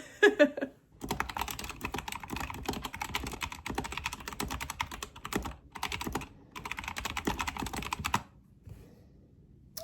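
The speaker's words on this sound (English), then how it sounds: "I love the sound of my keyboard because it's so clicky and it has the lights." Clicky backlit computer keyboard typed on steadily, with rapid key clicks coming in bursts separated by short pauses, close and clear with no talking.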